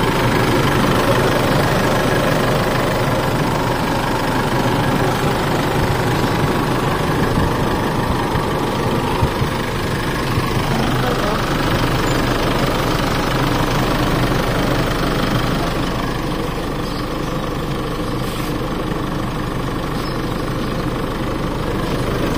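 A car engine idles steadily, a continuous low rumble with a faint knocking vibration that barely changes throughout, close and moderately loud.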